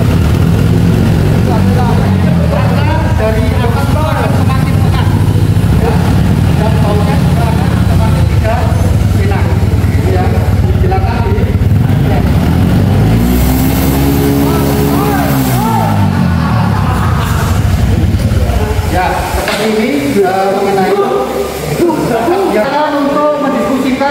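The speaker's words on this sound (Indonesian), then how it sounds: "Kita melihat dan nyalakan kendaraannya." A motorcycle engine started and left idling for an exhaust emission test, a low steady putter with a brief rev in the middle, nearby voices talking throughout.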